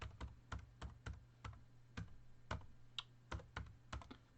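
Quiet, steady keystrokes on a computer keyboard, a dozen or so distinct taps in an uneven rhythm with brief pauses, recorded close with no voices.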